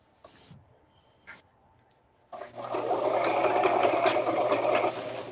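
During a beginners' sew-along, a sewing machine stitches a bag. A couple of brief taps come first, then the motor starts and runs in a loud, continuous close-up whir for several seconds.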